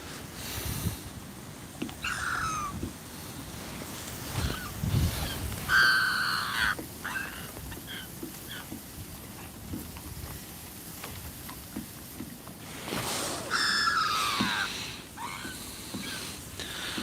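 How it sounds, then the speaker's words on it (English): Several bursts of harsh, high squawking calls from a gull, loud and close, repeating at intervals over steady low rumbling background noise, at a staithe on the Norfolk Broads. "Seagull's going crazy. I know I've got food over here and it's talking to me, as you can hear."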